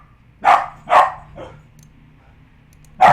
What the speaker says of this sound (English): I'm just going to press pause while my dogs stop barking